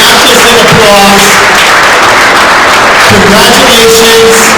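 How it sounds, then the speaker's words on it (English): A banquet crowd gives hall of fame inductees at a track and field induction a standing ovation: dense, steady applause fills the room throughout, with voices calling out over the clapping. "They deserve a standing ovation, not just an applause."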